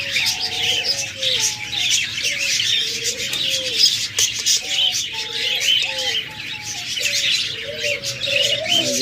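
Budgerigars in breeding cages chatter constantly, a near, lively stream of short warbling chirps and trills layered over one another with no pause, alongside faint rustling.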